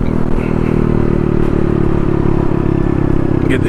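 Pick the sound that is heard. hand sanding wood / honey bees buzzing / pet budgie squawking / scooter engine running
scooter engine running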